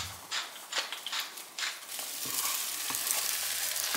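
Eggs frying with onions in a pan, a steady close sizzle broken by a few scraping stirs, growing into a denser, louder crackle as the eggs hit the hot fat, with no talking.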